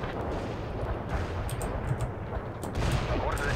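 Artillery strike in the game World in Conflict: a steady, rolling din of overlapping gunfire and distant detonations, with a few sharper cracks standing out, and no voices.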